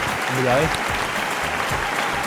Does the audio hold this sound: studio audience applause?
yes